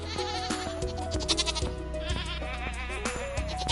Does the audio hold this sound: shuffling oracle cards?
no